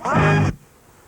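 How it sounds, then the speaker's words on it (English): Horn stab scratched on a turntable record: one loud, brassy burst lasting about half a second, cutting off abruptly into near silence. "and then there's a horn stab"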